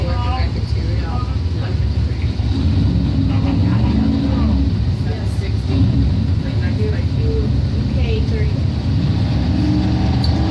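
Doorslammer drag race cars, including a 1971 Camaro, thundering steadily at close range with a dense, continuous engine roar and no breaks, while an announcer talks over it.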